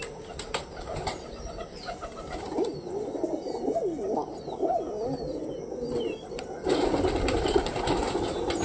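Pigeons coo in low, repeated warbling calls close by, with bursts of wing flapping and rustling, and a steady broadband hum running under the birds.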